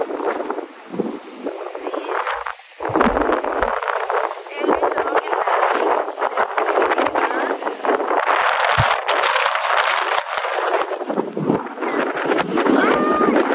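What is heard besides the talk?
strong wind on the shore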